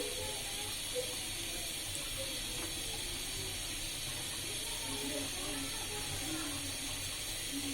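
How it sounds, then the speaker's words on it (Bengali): Beef tikka kebab pieces frying in a pan, a steady hissing sizzle throughout with faint scattered crackles, no talking over it. "এভাবে ভাজতে হবে, বারবার একটু কিছুক্ষণ পর পর উল্টায় দেখতে হবে যাতে পুড়ে না যায়।"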